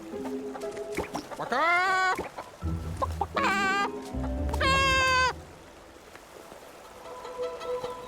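A giant Barasant playground facility in Infinity Nikki gives off loud, close clucking calls in three separate bursts, each rising into a strained squawk, with quieter low sounds between them and a softer call fading at the end.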